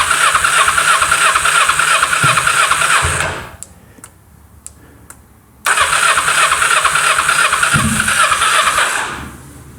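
A 22-year-old carbureted Kawasaki motorcycle cranks over with a loud, steady whirring and chugging from the starter, close up. It stops for about two seconds, leaving a few faint clicks, then cranks again just as long without catching.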